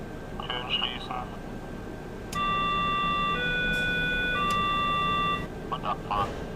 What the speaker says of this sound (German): Türen schließen.